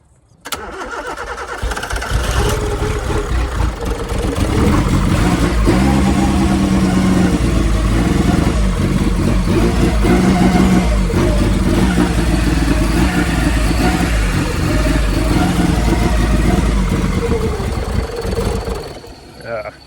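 A Nissan Silvia S13 with a CA18 engine and an upgraded R35 GTR MAF cranks, catches and runs at a loud, uneven idle up close, rumbling steadily with wavering revs before dropping off at the end.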